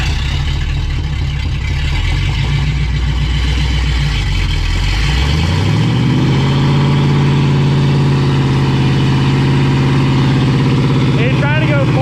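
A stuck vehicle's engine drops from a labored rev to a steady low idle after the throttle cuts out, a loud continuous rumble with voices talking over it.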